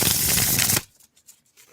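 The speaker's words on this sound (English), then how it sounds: "Oh, it's a nice shuffle." Tarot card deck being shuffled right next to the microphone, a loud dense riffle lasting under a second, followed by a few faint light taps.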